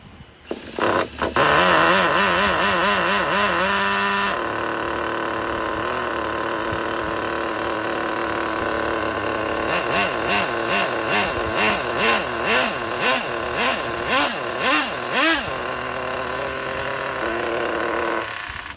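A small, high-pitched Traxxas Pro .15 nitro RC car engine with an old glow plug buzzes loudly and continuously, then rises and falls in quick throttle blips before settling back into a steady whine.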